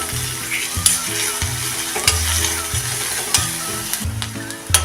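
Finely chopped onions and curry leaves frying loudly in a pan, a dense close sizzle with rhythmic stirring scrapes and occasional spoon knocks, no talking.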